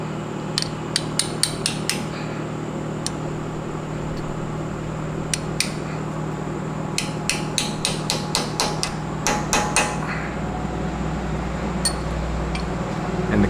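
Light hammer taps bend down the tail of a cotter pin on a Jeep Wrangler steering part, coming as sharp metallic clinks in short irregular bursts with pauses between, close and crisp.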